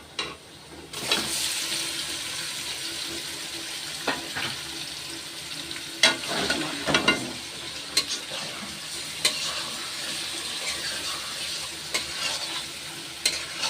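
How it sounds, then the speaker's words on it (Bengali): Fish sizzles steadily in hot oil in a wok over fried onions and cumin, a continuous bright hiss with occasional sharper crackles and stirring clinks, loud and close with no talking. "এখন মাছ দিয়ে দেব"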